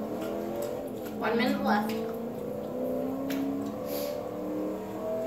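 Car engine revving and accelerating in the racing video game Forza Horizon 3, a steady engine drone with rising pitch sweeps, heard under continuous excited talk.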